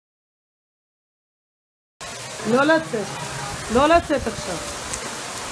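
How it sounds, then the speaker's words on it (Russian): Heavy rain downpour hisses steadily in the background after a moment of silence, while people talk over it at close range. "Смотри, какой ливень."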